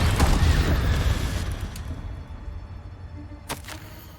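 A Confringo blasting spell explosion in Hogwarts Legacy bursts loud at the start and rumbles away over a couple of seconds, followed by a brief sharp crack near the end; no one speaks.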